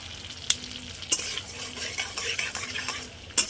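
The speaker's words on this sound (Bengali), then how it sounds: "বাটার দিয়ে আমি ঝিঙেটা একটু ভেজে নেব।" Ridge gourd frying in butter with black cumin in a pan, a bright steady sizzle with a few sharp clinks of a spatula against the metal, close up and without speech.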